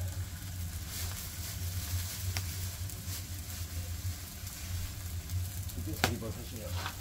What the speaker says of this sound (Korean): 이렇게 지글지글 소리 나는가요?